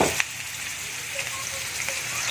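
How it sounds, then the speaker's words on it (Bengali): Potato pieces fry in hot oil for a chicken and potato curry, a steady close crackling sizzle with occasional brief pops and light clinks, no voices present. "তেলের মধ্যে আলু দিয়ে দিচ্ছি। আলুটাকে আমি ভালো করে ভেজে নেব।"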